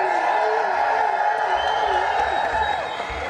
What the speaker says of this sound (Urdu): ذرا اور زور سے تالیاں بجائیں